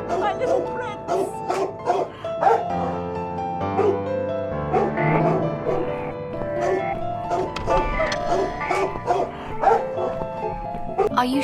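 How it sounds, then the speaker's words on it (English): William the dog yaps and whimpers in The Cat Lady video game, short barks scattered throughout beneath voiced talk and a sustained musical score. "Your dog is making horrible noise."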